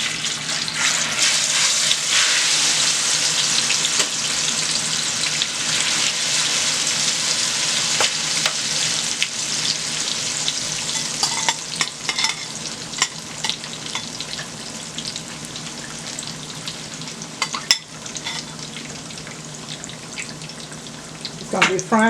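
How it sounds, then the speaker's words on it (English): Sliced plantain (loco) fries in hot oil, giving a loud, continuous crackling sizzle that holds steady throughout, with occasional clinks and a brief knock near the end. "And I'm going to be using the same oil to fry my loco."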